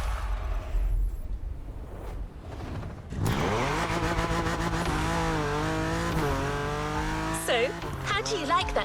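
Modded LBWK BMW engine in The Crew Motorfest, quiet at first, then revving up loudly with rising, shifting pitch through gear changes, tire squeal near the end.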